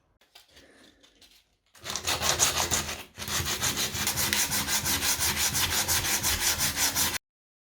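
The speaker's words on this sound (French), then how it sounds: "ensuite on va poncer la colle qui a séché" Dried glue being sanded off repaired wood on a 1903 Singer sewing machine stand, a loud steady rhythmic scraping of back-and-forth strokes after a brief pause, close and alone.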